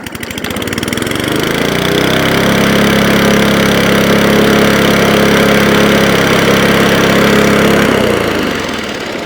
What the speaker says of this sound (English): when I start the engine, that this pulley here actually spins